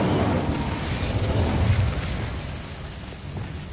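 A fire spell cast in the wizarding game Hogwarts Legacy, heard as a steady, dense roaring whoosh with a low rumble, loud and continuous for a few seconds and easing slightly toward the end.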